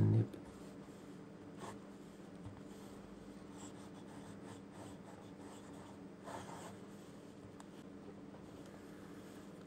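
A fountain pen with a 1.5 mm nib scratches steadily across paper, a soft, continuous close-up rasp with faint stroke-by-stroke variation and no talk.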